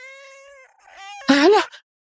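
A cat gives a drawn-out, tonal meow, then a brief pause and a louder, sharper rising-falling meow, close and clear with nothing else behind it.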